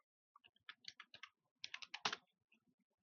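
Typing on a computer keyboard during a computer operation class, quick irregular bursts of crisp key clicks close by, pausing briefly between groups of strokes, with no voice over it.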